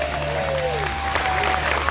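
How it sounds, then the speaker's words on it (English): Steady applause from an audience at a cruise ship welcome show, a continuous wash of clapping with a faint tonal sweep and some background hum underneath. "So let's hear another massive round of applause."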